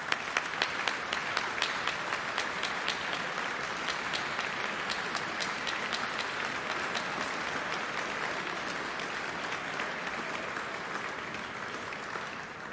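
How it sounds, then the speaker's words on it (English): Sustained audience applause for a boys' choir in a cathedral, dense steady clapping from a large crowd that starts with a few sharper claps and carries on evenly, moderately distant, with no voices over it. "I really think they deserve another round of applause."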